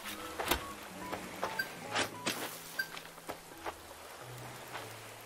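Rain falling in Animal Crossing: New Horizons, heard as scattered soft droplet ticks and patters over a quiet steady background, moderately close and gentle, with no talking.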